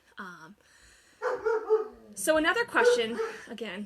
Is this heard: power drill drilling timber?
no